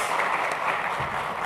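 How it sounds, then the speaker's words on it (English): Audience applause for a panel of speakers at a central bank monetary policy and financial stability event, a sustained wash of many hands clapping in a hall. "A round of applause for our panelists"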